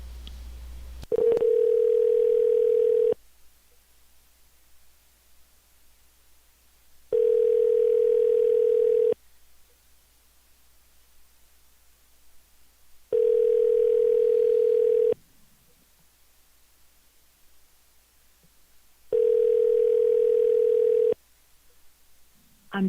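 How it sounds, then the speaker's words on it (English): A telephone call ringing out on the line: four evenly spaced ringback tones, each about two seconds long and separated by quiet pauses, clear and loud with no talking. "let's call the other number that might be him"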